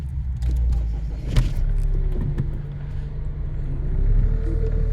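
A classic car idles nearby at the Newark Autojumble classic section, a steady low engine rumble with a few faint clicks and knocks, close and continuous with no talking.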